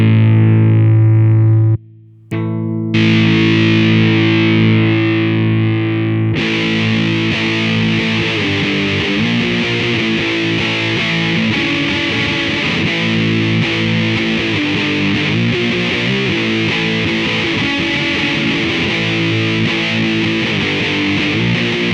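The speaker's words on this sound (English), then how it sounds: "Let's check out the fuzz." An electric guitar runs through the fuzz effect of a BOSS GT-8 multi-effects processor, playing loud, buzzing distorted notes and chords that turn denser and harsher after a short pause, with no talking.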